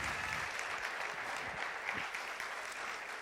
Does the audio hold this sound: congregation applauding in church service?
yes